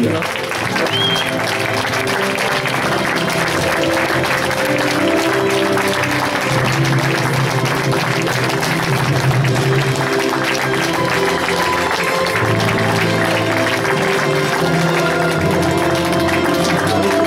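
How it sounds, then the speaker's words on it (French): Steady applause from a crowd at the Miss 15/17 France 2014 pageant results fills the whole stretch, loud and continuous, with a voice speaking over it and music underneath. "Applaudissements pour Camille."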